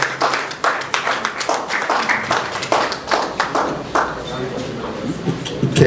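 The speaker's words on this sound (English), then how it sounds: "another round of applause for him" Audience clapping in a hall at an event hosting a society president, uneven bursts of applause rising and falling under a speaker's voice.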